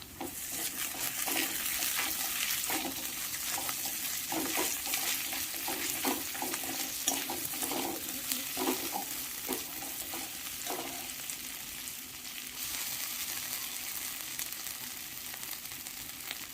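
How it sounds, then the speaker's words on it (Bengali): Onion and garlic frying in a pan with torn bay leaf and ginger paste added, cooked for a Bengali rohu fish and pointed gourd curry; a steady close sizzle runs throughout with intermittent stirring and scraping, and no talk. "পেঁয়াজ রসুন মোটামুটি ভাজা হয়ে গেছে। আমি এর সঙ্গে একটা তেজপাতাকে ছিঁড়ে দিয়ে দিলাম।"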